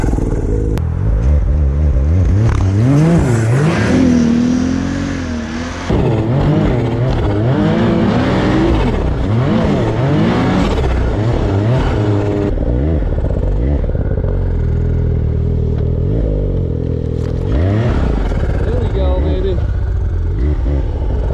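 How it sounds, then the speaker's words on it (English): A Ski-Doo Expedition 900 ACE Turbo R snowmobile idles and takes quick throttle blips, its engine pitch rising and falling in bursts with turbo whooshes, then settling to a steady idle, loud and close. "you can just kind of blip that throttle and you get those turbo noises"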